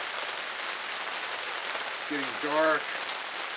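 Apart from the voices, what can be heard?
rain falling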